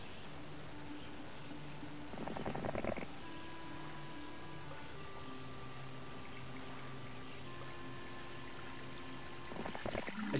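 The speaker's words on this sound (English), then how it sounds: "As you drink from the sweet water, you gain luck for your next battle" Water pouring and splashing from a sweet water fountain in a Heroes of Might and Magic video game, a steady soft rush with brief louder splashes near the start and end, over faint music tones.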